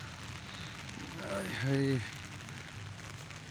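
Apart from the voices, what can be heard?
heavy rain falling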